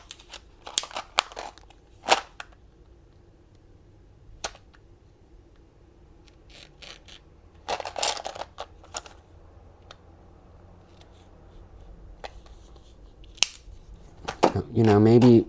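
A knife cuts through tape during a soda bottle compressed air tank build, giving scattered sharp snips and crinkly crunches at close range, with quiet gaps between and a louder burst of handling noise near the end.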